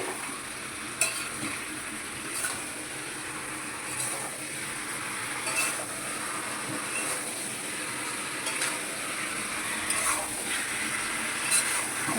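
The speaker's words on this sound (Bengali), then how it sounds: "আমি এবার হালকা হাতে নেড়ে নেবো" Chicken curry with tomato stirred in a pan, a continuous sizzle with rhythmic scraping strokes of a spatula every second or so, close and fairly quiet, no talking.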